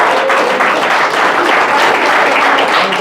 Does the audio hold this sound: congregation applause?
yes